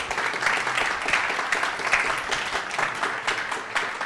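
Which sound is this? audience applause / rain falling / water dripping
audience applause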